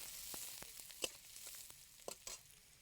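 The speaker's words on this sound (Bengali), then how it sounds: "আবারও কড়াইয়ের মধ্যে আমি দিয়ে দিচ্ছি সাদা তেল পরিমাণ মতো, পেঁয়াজ কুচি পরিমাণ মতো, কাঁচা লঙ্কা কুচি পরিমাণ মতো দিয়ে দিচ্ছি" Chopped onion and green chili fry in oil in a wok, a soft steady sizzle with a few light knocks and stirring taps, faint and close.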